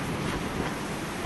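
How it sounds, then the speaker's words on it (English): A big gust of wind buffets a hammock tarp on a windy night camp in the Wattagans, a steady broadband rush and flapping roar close to the microphone, with no talking. "every now and then it just feels like you get a big gust of wind"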